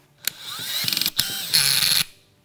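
Stanley PB2500N cordless fastening tool pulling and setting a fastener, with a sharp click followed by a rising mechanical whir, a rapid ratcheting pulse and a louder grinding burst before it stops, close and alone.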